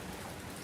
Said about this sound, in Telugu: అసలు మేము ఎక్స్పెక్ట్ చేయలేని సమయంలో వర్షం వచ్చింది